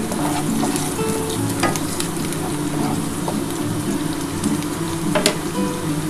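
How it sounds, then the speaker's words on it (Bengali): Boiled mung dal fries in a hot pan, bound for a fish-head dal dish, with a steady, close sizzle and crackle. Occasional stirring clinks rise through the frying noise. "আমি এবার ভেজে নিই ভালো করে"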